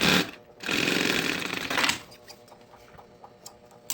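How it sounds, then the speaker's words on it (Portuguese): Sewing machine stitching the lining of a handbag, a close, loud burst of rapid needle chatter for over a second that stops abruptly, followed by faint ticking and clicks. "E agora eu vou passar uma costura segurando esse forro, tá? Fechando toda a lateral."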